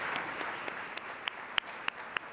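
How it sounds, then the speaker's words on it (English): Panel-event audience claps for introduced panelists, a fairly faint wash of applause with a handful of sharper individual claps standing out near the microphone at steady intervals. "let's clap for them now."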